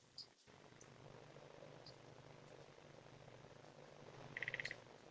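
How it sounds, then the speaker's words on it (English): A sparkling gourami in a home aquarium makes a brief rattle of rapid clicks near the end, faint against a steady tank hiss, with no talking. "So that's the sparkly gourami noise."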